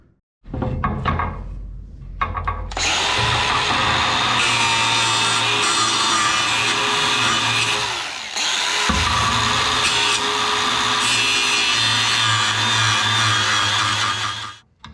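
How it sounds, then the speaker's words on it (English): A power saw cuts through the metal underrun rails of a Mercedes 308D recovery truck in a garage, a loud, close, continuous grinding whine in two long passes with a short dip between. "we've also got some more blades to cut down the underrun rails on the other side"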